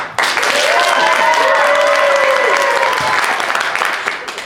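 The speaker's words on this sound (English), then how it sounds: "by applause, this specimen called Durdles" A theatre audience claps loudly to vote for the character Durdles in The Mystery of Edwin Drood, a full, sustained roar of applause with cheering and whooping voices rising over it before it fades.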